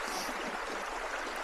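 Steady broadband rush of creek water flowing outdoors on a mountain trail, continuous and fairly close with no talk.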